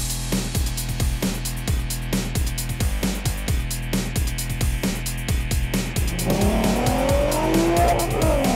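A 3.2 liter car is driven hard along a British Columbia canyon road, its engine note rising and falling steadily while tires squeal loudly and repeatedly through the corners, the screeching swelling toward the end.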